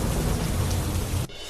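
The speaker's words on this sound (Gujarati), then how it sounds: "ધોધમાર વરસાદ વરસતા નદીઓ તોફાની બની" Heavy downpour during a monsoon storm that swelled rivers, a dense loud roar of rain that cuts off abruptly near the end.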